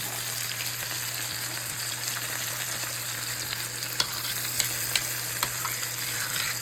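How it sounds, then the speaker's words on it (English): A rib eye steak sizzles steadily in a hot pan while being basted with melted butter, a close, continuous frying hiss broken by a few sharp spits and pops. "I'm going to put the butter in it like everyone does. And just baste it in the butter."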